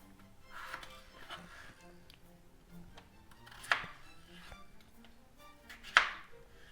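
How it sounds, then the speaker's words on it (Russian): A kitchen knife cutting medium potatoes into quarters, producing faint soft cuts and two sharper knocks on the board, heard close but quietly with no talk. "картофель средний я режу"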